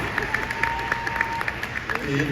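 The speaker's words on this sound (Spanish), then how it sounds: "démosle un aplauso" An audience at a health panel claps in a short burst of applause, a dense patter of hand claps close by, with a speaking voice overlapping.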